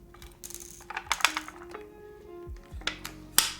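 Typing on a Tofu65 2.0 mechanical keyboard build: quick, irregular clacky keystrokes close up, with a slightly thin, bright character and a sustained tone ringing underneath.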